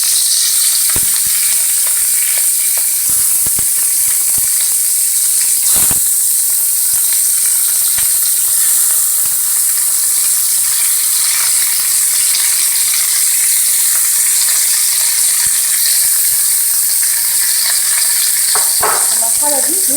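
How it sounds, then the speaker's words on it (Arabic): Chicken pieces fry in hot oil, filling the space with a loud, steady, close sizzle and hiss that runs unbroken and carries a few faint clinks. "احط بقى الفراخ، واخلي بالي وانا بحط الفراخ ان الزيت سخن"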